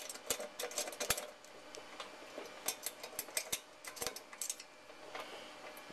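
A lock box is being picked with a pick and a tiny screwdriver, giving close, irregular metallic ticks and scraping clicks in small clusters.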